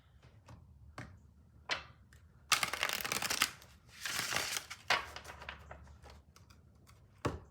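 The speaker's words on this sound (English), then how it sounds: "gonna do one more shuffle." A deck of tarot cards is shuffled by hand close up, with crisp riffles, flicks and taps in quick irregular bursts and a few fuller rustling stretches, with no voices.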